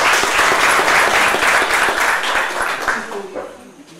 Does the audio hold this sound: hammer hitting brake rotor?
no